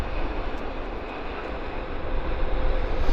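An airplane arrives at Vancouver Airport YVR, its engines making a dense, continuous roar that holds steady and swells slightly toward the end; no voices.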